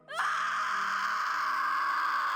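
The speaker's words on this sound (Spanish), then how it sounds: "Eran gritos sufridos de una mujer acompañados de un llanto desesperado, rayando casi en la locura misma." A woman screams and wails in desperate, anguished crying, a sustained, loud, close cry that breaks out suddenly and holds without pause, set as a horror-story sound effect.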